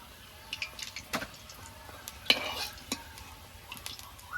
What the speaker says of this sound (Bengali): বাকি পকোড়াগুলো এভাবে ভেজে নেব